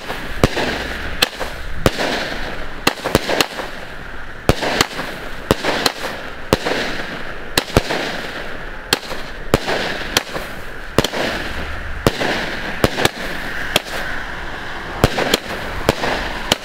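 A rapid series of shots from a 16-shot firework battery cake with gold and blue effects, sharp cracking pops at an uneven rhythm, loud and outdoors, continuing for many seconds.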